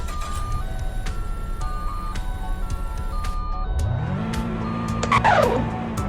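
A 1997 Volkswagen Golf Trek Edition in the Greenville driving game, its engine note rising steadily as the car pulls away, with a short tire squeal near the end over a looping background tune.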